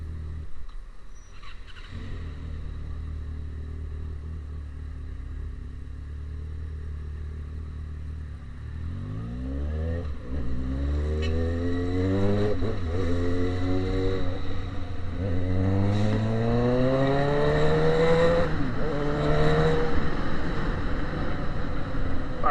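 A Yamaha XJ6 motorcycle with an open exhaust idles roughly, then is revved repeatedly in rising, aggressive bursts that grow louder and harsher toward the end, heard up close with no talking.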